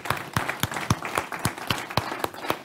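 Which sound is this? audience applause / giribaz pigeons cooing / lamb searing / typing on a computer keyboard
audience applause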